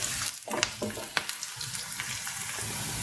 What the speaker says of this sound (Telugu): ఇలా మొత్తం ఇలా అన్నీ కలిపిస్తూ ఒకసారి ఫ్రై చేసేసుకోవాలి